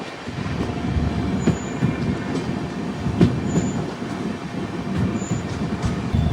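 Moving passenger train on the Kollam to Nanded Sabarimala special route heard from onboard, with a steady rumbling roll of wheels on rails, periodic clacks and faint squeals.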